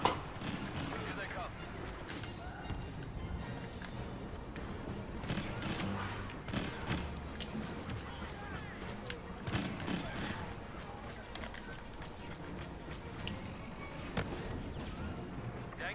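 An AT-AT walker fires at a GR-75 transport over Bespin's Cloud City in a Star Wars video game, with rapid, repeated blaster and artillery-like bursts sounding through a busy battle mix, fairly faint overall, while a person talks intermittently.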